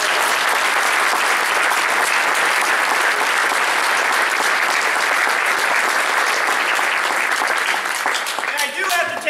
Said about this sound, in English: Let's give them one more round of applause for everyone.